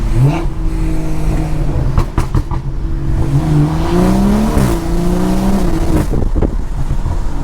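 A BMW 340i with the B58 engine and a very loud aftermarket exhaust revs hard and close, its deep roar rising and falling through several throttle blips with crackling pops, continuous and alone.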